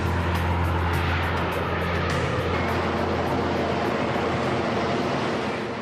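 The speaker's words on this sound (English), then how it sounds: "To help them slow down, the pilots direct the Harrier nozzles forwards." Harrier jump jet engine with its nozzles swung forward, a loud continuous roar and rumble with broadband hiss, steady throughout and close, with no talk.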